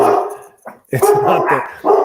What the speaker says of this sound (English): So my dog's going nuts anyway